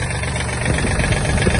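A Yanmar EF-222 Japanese mini tractor's diesel engine, 1.33 litres and 22 horsepower, runs evenly up close with a steady knocking rumble.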